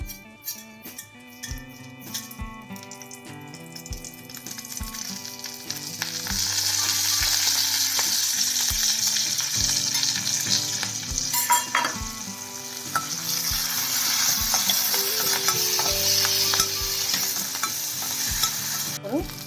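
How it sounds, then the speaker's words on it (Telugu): Mustard seeds, urad dal, cumin, dried red chillies, curry leaves and garlic frying as a tempering in hot oil, a steady close sizzle that swells louder partway through, with scattered sharp pops and spoon clinks against the pan. "ఆవాలు మినపప్పు జీలకర్ర ఎండుమిర్చి కరివేపాకు వెల్లుల్లి ఇవన్నీ వేసేసుకుందాం"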